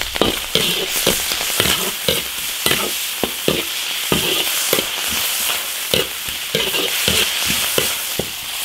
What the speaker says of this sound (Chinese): 加入生姜、泡椒，炒香。